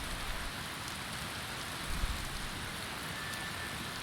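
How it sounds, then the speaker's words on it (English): Steady, even rain falls in a video game, a constant soft hiss that carries on alone from start to finish. "it should be raining"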